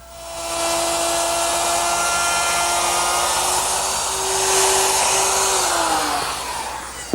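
A power tool whines steadily as it cuts a dado into wood for shelf standards, a loud sustained high-pitched motor tone that bogs slightly mid-cut before winding down at the end.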